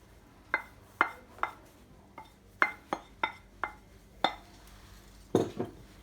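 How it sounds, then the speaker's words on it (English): Bread dough for a Hokkaido milk loaf being mixed in a bowl, a series of about a dozen separate clinks and knocks of utensil against bowl at an irregular rhythm, close and fairly quiet with no talking. "Mix it until it forms a dough"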